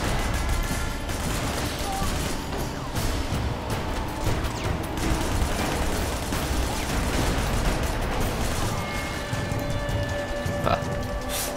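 Rapid gunfire in Sleeping Dogs during a side-on shooting mission, dense repeated shots and mechanical clatter running steadily throughout, loud and continuous, with a voice speaking over it.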